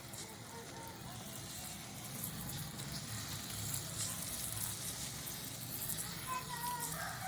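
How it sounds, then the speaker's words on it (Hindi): A stevia plant watered from a shower head in a poly house gives a soft, steady spray and patter of water, faint and continuous with a slight hiss. "इस तरह आप शावर से पानी दे दें इसे।"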